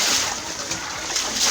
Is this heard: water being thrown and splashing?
yes